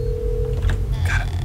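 Telephone ringing inside a house in the video game Hello Neighbor, a steady electronic ring tone held under a low droning background, loud and close.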